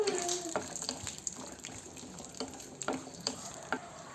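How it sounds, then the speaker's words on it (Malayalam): Cashew nuts fry in hot ghee for caramel palada payasam, giving a soft, steady sizzle broken by light clinks and scrapes of stirring, all fairly quiet and close. "ഇച്ചിരി കാഷ്നട്ടും മുന്തിരിയൊക്കെ ഒന്ന് നെയ്ക്കകത്ത് റോസ്റ്റ് ചെയ്തുകൊണ്ട് ഇടുന്നുണ്ട്."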